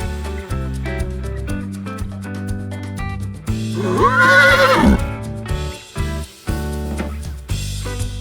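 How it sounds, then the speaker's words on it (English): A single loud horse whinny, shrill and wavering, rises over background music before trailing off. "Horse."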